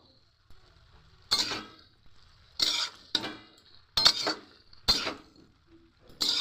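A spoon clinks and scrapes against a pan in short, irregular bursts while bottle gourd greens cook, with quiet pauses between strokes.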